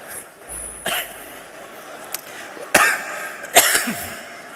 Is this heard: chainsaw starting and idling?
no